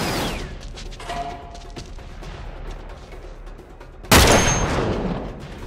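Enemies fire on the player in a firefight in the action game Uncharted 3: Drake's Deception Remastered. Scattered shots and clatter give way to a loud, sudden blast and crash near the end, with no one speaking.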